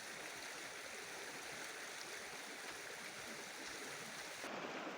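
The Foltier brook, a stream in the Bilhard gorges near Monistrol-sur-Loire in Haute-Loire, rushes with a steady, close, broadband flow of water throughout, with no voices.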